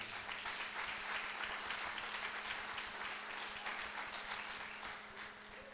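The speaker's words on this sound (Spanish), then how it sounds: "Vamos a dar una ofrenda de palmas." A church congregation claps together in a dense, steady burst of applause that fades slightly toward the end, with no speech over it.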